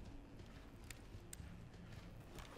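Footsteps in a hallway in the Ready or Not SWAT simulator game, faint rhythmic steps under a steady hiss with a few sharper knocks, quiet and distant.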